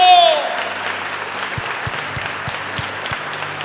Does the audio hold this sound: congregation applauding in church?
yes